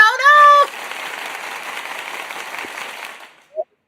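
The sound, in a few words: applause sound effect played to celebrate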